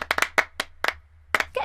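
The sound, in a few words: rhythmic hand clapping, body percussion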